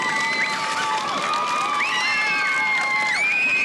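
Children cheer and shout together, high excited voices whooping and calling out continuously, with some applause mixed in.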